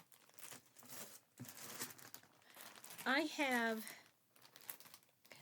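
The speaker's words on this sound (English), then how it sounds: "I'm sorry for all the crinkling, but they're plastic bags" Plastic bags holding yarn crinkle and rustle in loud bursts while someone talks, with a brief quiet gap before more crumpling.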